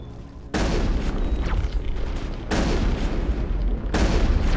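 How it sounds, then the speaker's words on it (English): Rocket explosions in Mass Effect during a colony defence against Geth, three heavy booming blasts in sequence, each sudden, loud and close, with rumbling tails between. "those rockets do hella damage"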